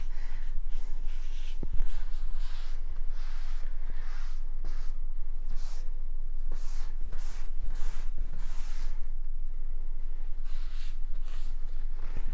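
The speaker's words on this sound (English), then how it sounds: "Clean your door handle with a disinfectant spray and get that looking nice and shiny" Disinfectant spray and a cloth work over a door handle during a bedroom and ensuite clean, a steady close rubbing and wiping hiss running continuously with brief spray-like bursts and small clicks.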